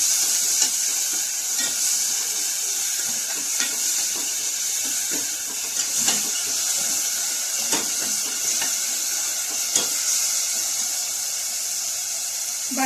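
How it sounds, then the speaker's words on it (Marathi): Chili, ginger and garlic paste frying in oil: a steady, loud sizzle and hiss throughout, with occasional faint stirring clicks and no talking. "मिरची, अद्रक आणि लसूणची पेस्ट ही थोडी फ्राय करून घ्यायची तेलात"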